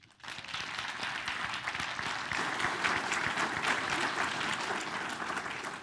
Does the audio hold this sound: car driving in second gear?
no